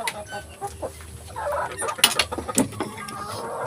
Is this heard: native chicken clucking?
yes